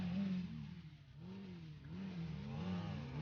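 A motorcycle engine in the game GTA 5 revs up and down in a wavering, cyclic drone, fairly quiet and steady with no talk over it.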